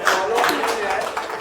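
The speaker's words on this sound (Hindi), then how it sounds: "एक बार जोरदार तालियां।" Audience clapping at a Hindi-language sales and motivational seminar, a steady wash of hand claps running through the whole short moment with a voice talking over it.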